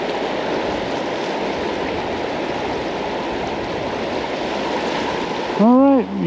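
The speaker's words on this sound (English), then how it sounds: "I'm going to be right down here next to the Colorado River" The Colorado River rushes past close by near Lees Ferry in Glen Canyon, a loud, steady roar of flowing water that runs unbroken until a voice comes in at the very end.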